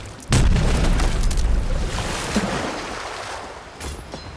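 Kraken attack explosion in the pirate naval game Rogue Waters, a loud deep boom that erupts suddenly and rumbles down into a churning, watery roar before fading.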